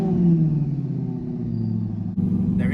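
A modified C8 Corvette's engine rumbles at a deep, steady idle, loud and close, with a brief dip near the end before the low drone carries on alongside a faint hiss.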